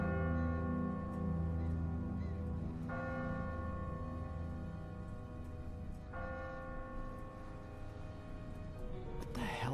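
A church bell tolls in The Walking Dead game, its deep ringing strikes repeating every few seconds with long humming decay, while a voice talks underneath.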